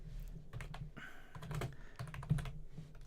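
Fast typing on a computer keyboard at a desk, with a steady patter of light clicking keystrokes and a few heavier taps heard up close.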